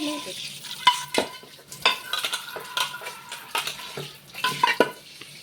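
A greasy kadai cleaned with Thums Up is scrubbed and washed, with intermittent metallic scraping, clinks and rubbing strokes in an uneven rhythm, close and fairly loud, without talk.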